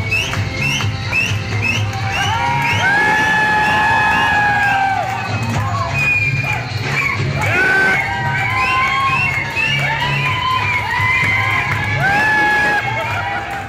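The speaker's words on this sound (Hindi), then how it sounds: "लोगों की तालियां और डीजे बीट्स पर थिरक रहे इस शख्स का नाम संजय भाटी है" A party crowd celebrates to loud DJ music, with sustained cheering, whoops and shouting that stay close and loud throughout.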